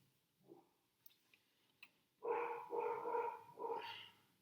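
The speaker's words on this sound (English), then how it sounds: "do you hear my dog?" Several loud, close dog barks run together in a burst after a few quiet thumps and a faint yip, with a final bark trailing off.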